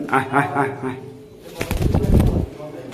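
A breeding pigeon pair in a loft coos in several low, rolling pulses, followed by rustling and a burst of louder noise that could be fluttering or handling nearby.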